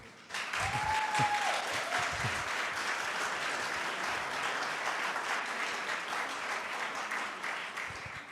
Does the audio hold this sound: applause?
yes